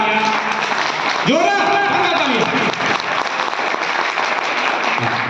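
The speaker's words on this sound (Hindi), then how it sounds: "एक बार जोरदार तालियां" An audience at a motivational talk claps loudly and steadily throughout, with a voice briefly calling out over the applause near the start.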